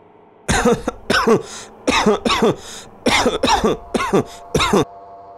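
A run of harsh, hacking coughs comes in several quick bursts with short pauses between them, close and loud.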